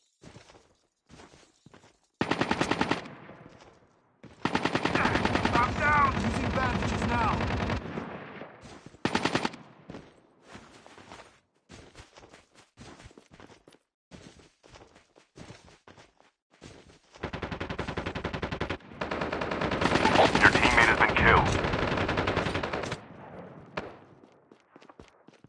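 Sustained machine gun fire in Call of Duty, several long automatic bursts with short single shots between them, loud and close, separated by quieter gaps.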